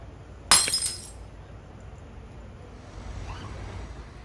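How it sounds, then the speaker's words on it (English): Glass spectacles smashed to pieces against an ancient stone in London: a single loud shattering crash with bright tinkling fragments that fades within half a second, then quiet background rumble. "the order was given to have the dodgy merchandise smashed to pieces upon the London stone"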